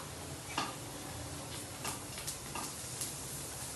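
Chopped garlic frying with browned onion in plain oil in a pan for pizza sauce, a steady close sizzle broken by a few soft stirring scrapes.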